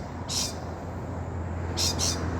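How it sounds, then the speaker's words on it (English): Rainbow lorikeets give short, shrill screeching calls in a few bursts, one early and a double burst near the end, over a low steady hum outdoors near a rail yard. "noisy birds in the background,"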